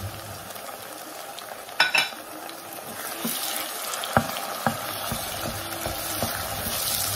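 Onion, celery and tomato paste cooking in a pan for a fish curry, a soft steady sizzle with a few sharp clinks and scrapes of a utensil, near and quiet.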